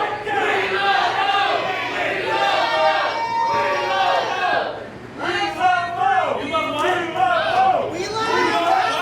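Fight-night crowd roaring and shouting in support of a fighter named Mo, loud excited voices and chants filling the arena, rising in bursts over a continuous crowd din.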